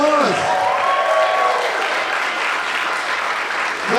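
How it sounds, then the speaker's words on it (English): Audience applause at a pitch competition, a dense, steady wash of clapping from a large crowd that holds evenly throughout, with a brief whistle-like tone near the start. "Let's have a round of applause."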